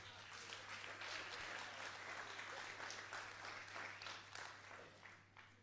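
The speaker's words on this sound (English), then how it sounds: "Can you give me a round of applause really quickly?" A church congregation at a Sunday service gives a steady, dense round of applause that holds for several seconds and then thins slightly toward the end.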